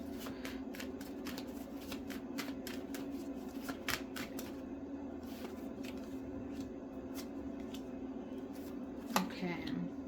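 A tarot card deck being shuffled by hand, with steady riffling and rustling bursts repeating close to the microphone over a low background hum.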